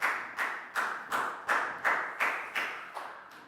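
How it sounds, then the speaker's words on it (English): Class clapping in a steady, even rhythm, about ten bright group claps in quick succession, close and clear with no talking over them. "High five, big round of applause for Prao."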